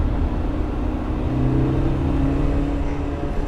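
A BMW E30 M3 engine hums steadily from inside the cabin, rising slightly in pitch as the throttle is pressed, continuous and moderately loud with no talk.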